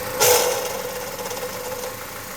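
A Chevrolet Malibu engine idles steadily with a faint clattering tick riding on the hum, a brief louder burst near the start as a relay is pulled, close and alone with no talk.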